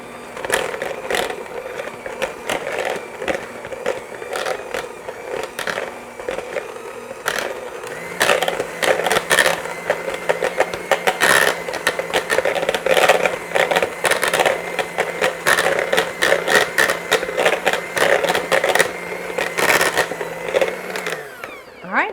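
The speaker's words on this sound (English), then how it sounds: "I'm just going to use my hand mixer to just mash these up a bit" Hand mixer mashing cooked sweet potatoes for a pie, a steady whirring drone with irregular scraping and clattering bursts against the bowl, louder and denser in the second half.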